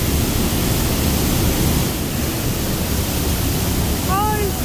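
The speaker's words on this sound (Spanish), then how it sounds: "Una cascada." A waterfall rushes as a steady, loud, dense roar of falling water. It holds constant throughout, and a brief chirp comes near the end.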